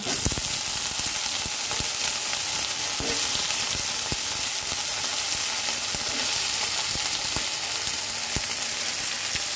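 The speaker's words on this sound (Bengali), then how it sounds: "এখন আমি এর মধ্যে দিয়ে দেব সবজিগুলো। দিয়ে দেব কেটে রাখা আলু, সিম," Cut potato, beans and eggplant added to fried onion in hot oil, giving a loud, continuous dense sizzle with scattered small clicks of stirring and no voices.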